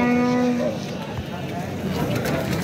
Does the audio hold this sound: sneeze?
no